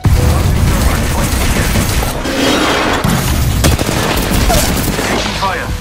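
Rapid bursts of gunfire in the video game Apex Legends, dense and loud throughout, with clattering mechanical weapon sounds and booming impacts layered together in a busy firefight.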